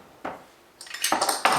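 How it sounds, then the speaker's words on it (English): Metal blender blades with a washer set onto a jar of cheesecake filling, a few close clinks and scraping clatters of metal parts over about a second and a half. "So now I'll put the blender blades on top."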